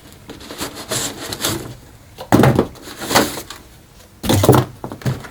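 An ARRMA brushless RC car model, a Senton, Typhon or Big Rock 3S, is pulled from its packaging, with loud crinkling, rustling and scraping of plastic and cardboard in several bursts, close up.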